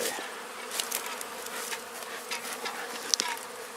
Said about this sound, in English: there's bees getting all back in all areas of the hive